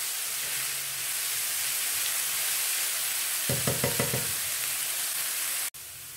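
Sliced onions frying in a pan for potato vada, a steady close sizzle with a brief run of quick spoon taps and scrapes partway through, then a sudden cut.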